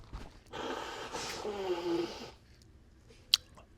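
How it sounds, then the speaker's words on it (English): A person blows their nose in one forceful, breathy honk lasting under two seconds, close and fairly quiet, followed by a brief sharp click. "I'm going to blow my nose."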